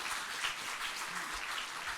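A church congregation at a March 1st memorial worship service claps to welcome the chairman, giving a brief, even wash of applause from many hands.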